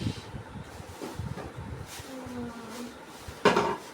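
A 24-size kadai cooking pan being handled, with light metallic knocks, scrapes and a brief ringing clang as it is moved about, close and fairly quiet.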